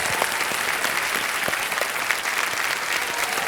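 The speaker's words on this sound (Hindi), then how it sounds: "ताली बज जाए इनके लिए।" Steady, even applause from the studio audience of a television quiz show, a dense wash of clapping at constant loudness with no voices standing out.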